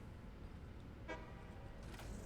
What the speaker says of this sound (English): You were even given a little honk.